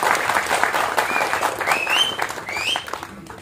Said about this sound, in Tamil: இவங்களை முதல்ல கைத்தட்டி நம்ம வரவேற்போம்.